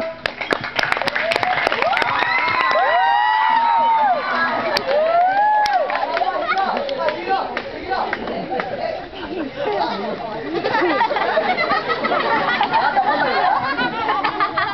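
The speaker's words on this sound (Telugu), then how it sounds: "Give him a round of applause." An indoor crowd at a school Children's Day drama claps and chatters loudly for the play's hero, with scattered whoops and sustained noisy murmur lasting the whole stretch, and voices talking throughout.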